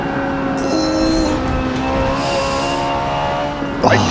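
A Nissan GT-R '95 race car slides through a corner on the Nordschleife in Forza Motorsport 7, a steady engine drone with a long tire squeal, ending in a brief sharper screech.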